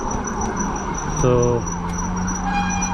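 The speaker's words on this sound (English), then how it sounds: "I hear sirens" A distant siren wails beneath a constant chirping of crickets, with a brief spoken word over the steady background hum.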